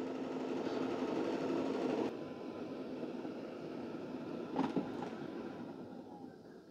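A Shark AI Ultra robot vacuum maneuvering in front of its self-empty base and backing in to dock: a steady mechanical whir that drops in level partway through, with a brief clunk as it settles.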